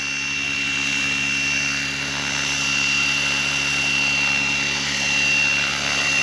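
A Trex 600e electric RC helicopter's rotor spins steadily up close, a continuous whirring drone with a high motor whine and only slight swells in speed, alone with no voices.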